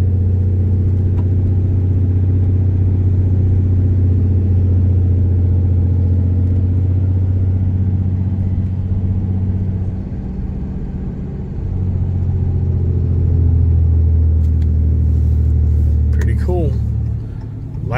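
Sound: Ram pickup truck engine and exhaust while towing a trailer

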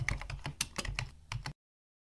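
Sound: keyboard typing in a children's typing game

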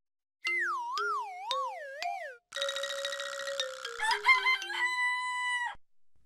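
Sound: rooster crowing

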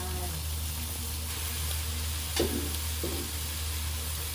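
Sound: pork frying with roasted chili paste

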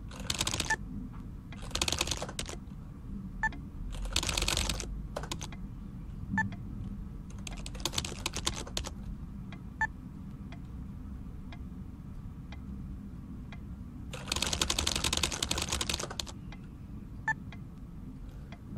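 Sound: typing on a keyboard in the video game Three Twenty One

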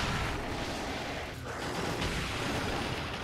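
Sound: Sonic Cannon blast in Monster Hunter Generations Ultimate video game

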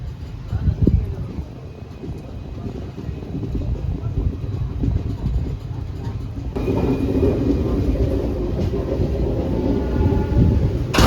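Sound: train running through a tunnel

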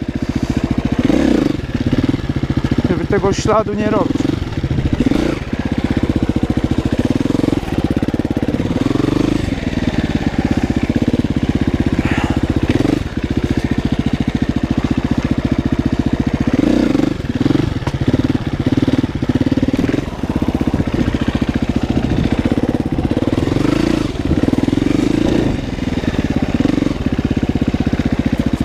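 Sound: motorcycle riding off onto a meadow

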